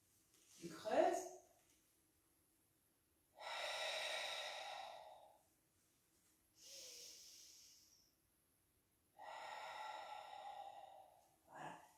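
Breathy exhalations pushed out through the mouth during a fitness exercise, four separate puffs spaced a couple of seconds apart with quiet gaps, close to the listener, plus one sharper gasp-like breath at the start.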